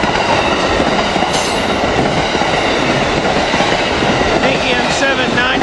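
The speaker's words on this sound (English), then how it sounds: "we got the Amtrak Keystone that just left Ardmore for Paoli" An Amtrak Keystone train, cab car 9632 leading, rolls past Bryn Mawr after leaving Ardmore for Paoli: a loud, continuous rush of wheels and rail noise with rhythmic clatter, close and sustained throughout.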